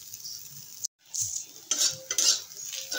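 Yukti flowers frying in a pan, with a quiet sizzle broken by a brief gap and then a few clinks and scrapes of a spoon stirring against the metal.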